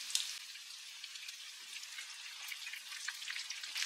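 Chicken pieces coated in crushed Lay's chips frying in oil over a medium flame, giving a soft, steady crackling sizzle with scattered pops, fairly faint and heard on its own.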